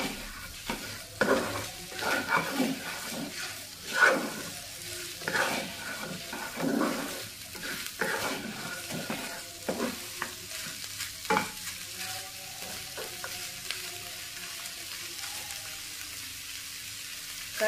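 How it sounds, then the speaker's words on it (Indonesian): Nasi goreng with petai being stirred and tossed in a frying pan, a low sizzle under repeated scraping and clattering strokes of the spatula, irregular and close, with no one talking. "Nasinya diaduk lagi, mantap ini ya."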